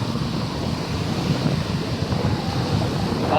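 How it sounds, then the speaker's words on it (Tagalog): Ocean waves wash and rumble continuously near a small boat in deep water, mixed with wind noise buffeting the microphone. "Guys oh, mga alon oh."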